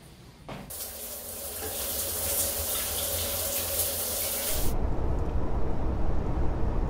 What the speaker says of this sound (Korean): 일단은 샤워장 하나라는 거 제가 독차지하고 씻고 나가서 뵙도록 하겠습니다.